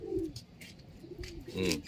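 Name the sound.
pigeon cooing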